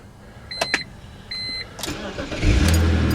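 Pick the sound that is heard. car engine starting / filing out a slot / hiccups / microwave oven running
car engine starting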